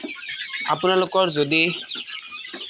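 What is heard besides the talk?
local chickens clucking on a poultry farm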